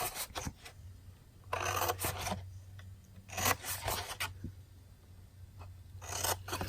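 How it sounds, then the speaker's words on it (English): Scissors cut cardstock up to the score lines while a box is being made, giving several short rasping snips in separate bursts, close but fairly quiet, with no talk. "we're going to cut up to the score line on all 4 score lines on this side"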